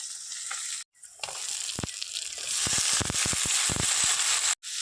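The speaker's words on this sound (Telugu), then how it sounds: "ఉల్లిపాయ ముక్కలు, పచ్చిమిరపకాయలు కొంచెం వేగినాక అల్లం వెల్లుల్లి పేస్ట్ వేసుకోవాలి" Onions and green chillies fry with ginger garlic paste in a pan for tomato rice, giving a steady, loud sizzle with a few stirring scrapes and brief breaks.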